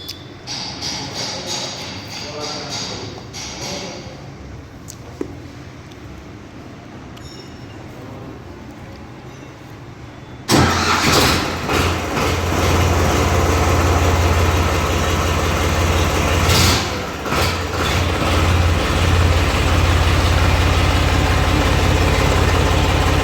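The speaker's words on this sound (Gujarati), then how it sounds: "આગળ તમને ટ્રેક્ટરનો અવાજ સંભળાવીએ." A low engine rumble turns over partway through, then the water-cooled engine of an Eicher 485 tractor runs loud and steady, idling with a heavy droning throb.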